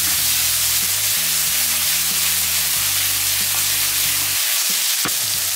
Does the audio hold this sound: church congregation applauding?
no